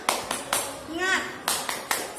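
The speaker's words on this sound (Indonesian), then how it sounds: "Tepuk semangat." Class of students doing a rhythmic spirit clap, sharp claps landing in a steady pattern with a shouted chant in between, close and fairly loud.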